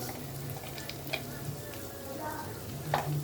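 Rice sizzles in a pan while it is stirred and fried, making a steady, moderate crackle broken by scraping stir strokes and small splashes.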